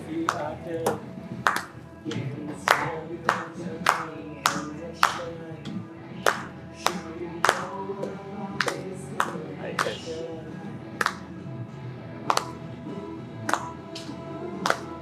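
A small group in a podcast setting claps in a loose, uneven rhythm, sharp near hand claps repeating throughout with talking voices underneath.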